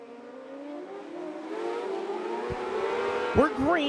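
600 mini sprint race cars roaring around a dirt oval at the green flag of a heat race, engines rising in pitch as they accelerate together, loud and close, with a brief sharp burst near the end.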